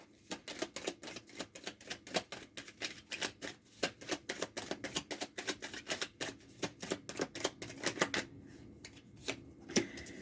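A deck of oracle cards is shuffled by hand in a steady run of rapid, crisp riffling clicks and flutters, close and fairly quiet, continuing for the whole stretch with no talking over it.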